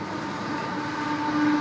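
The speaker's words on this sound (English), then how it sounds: "We have some SSR locos about to pass platform number 1." Sydney Trains CEY class SSR locomotives roll slowly past platform 1 at Pennant Hills station, a loud, steady, close diesel rumble with droning engine tones that swell slightly toward the end.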